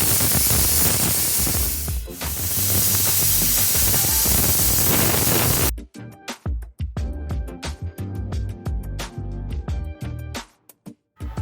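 A pressure cooker holding khandvi batter vents steam in a loud, continuous hiss for about six seconds. A choppy run of clicks and clatter follows.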